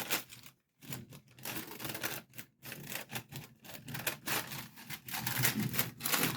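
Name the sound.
cutting tissue paper around a heart shape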